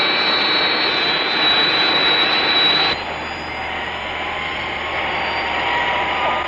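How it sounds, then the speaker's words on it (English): A jet aircraft roars steadily overhead, loud and sustained with a sharp whine, from the Thunderbirds series, dropping abruptly in tone partway through as the engine noise continues. "There must be an aircraft in the vicinity."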